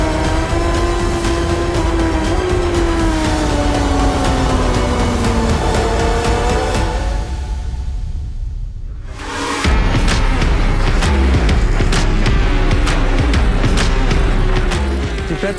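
Race car at speed on the Oschersleben circuit, a loud, high engine note rising and falling through gear changes, briefly dipping before surging back to full roar.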